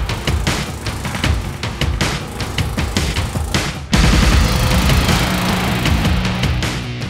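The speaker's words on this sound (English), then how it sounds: "Doing the initial doming on Captain America's shield using a Pullmax P21 universal sheet metal forming machine with doming dies" A Pullmax P21 universal sheet metal forming machine with doming dies pounds a steel shield, giving rapid loud mechanical hammering over a motor drone that grows heavier partway through.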